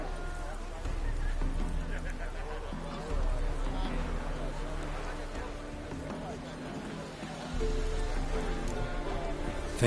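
Horses being ridden in The Witcher 3: Wild Hunt, with steady rhythmic hoofbeats under game music and a light rain-like patter, while voices talk over them.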